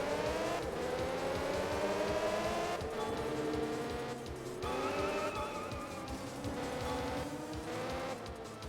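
Rain falls in the GameCube racing game GT Cube, a steady hiss of drops beneath the loud, continuous drone of a car engine that rises and falls in pitch.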